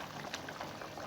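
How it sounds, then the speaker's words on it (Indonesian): Rendang cooking liquid bubbling at a steady rolling boil in a covered pot, a close, continuous seething gurgle with no voices. "Ini sudah mendidih."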